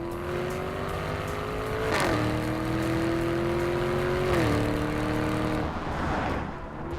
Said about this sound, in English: I don't think I could ever tire of that crackle and growl out of the back of this car.